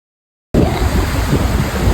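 After a moment of silence, loud rushing surf and wind noise fill the scene at a coastal resort, a rough continuous wash of waves whipped up by strong wind close by.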